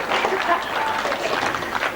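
Audience applause at a 1998 1000cc right-hand sidecar racing event, a steady dense patter of clapping sustained throughout, fairly close and even in level.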